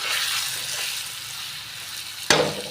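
Chili and cumin powder frying in a pan, a steady hissing sizzle that holds throughout, ending in a sharp, louder splash-like burst near the end.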